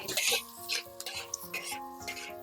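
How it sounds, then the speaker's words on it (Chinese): Pork intestines stir-fried over high heat in a wok with baijiu, chopped chili, diced red pepper and diced onion, giving bursts of close scraping, tossing and sizzling with a steady tonal hum underneath. "继续大火给它爆炒"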